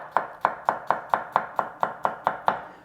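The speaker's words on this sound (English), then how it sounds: "We're smashing 2 cloves of garlic and then we're chopping them up." A knife chopping smashed garlic cloves on a board in ten even, crisp strikes at a quick regular rhythm, close and clear with nothing else heard.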